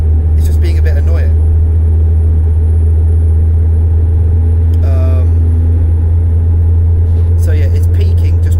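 A heavy, steady Scania truck engine drone from Euro Truck Simulator 2 dominates, loud and constant, with faint chirpy tones and talk-like sounds surfacing briefly over the rumble.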